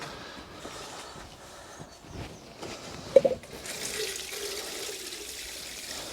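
Water poured onto soil to water newly planted Chinese cabbage in a polytunnel, a soft continuous splashing gush at low level with a brief sharper spatter partway through and no voices.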